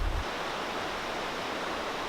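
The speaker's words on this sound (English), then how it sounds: "You can hear water." Water flows steadily beside a green forest trail near West Glacier, a continuous broadband rushing hiss with no pauses.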